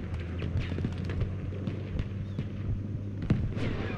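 Gunfire and distant explosions in the video game Battlefield V on the Narvik map, scattered booming shots and cracks over a rumbling battlefield background.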